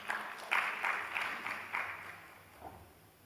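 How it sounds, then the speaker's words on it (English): Audience applause at a breakout session of a Nairobi innovation tech week conference: a short, faint patter of clapping that swells briefly and then thins out and fades. "Can you give a clap?"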